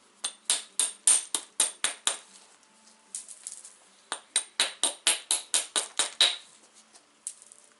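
Percussion flint knapping, trimming the edge of a flint piece, heard as sharp, ringing strikes in two steady runs of about a dozen each with a short pause between, close and distinct, with no talk.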